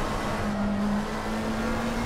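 A McLaren 720S GT3 EVO race car engine pulls under throttle at Spa in the racing game Assetto Corsa Competizione, a loud steady droning note with a rising tone, close and unbroken, no speech.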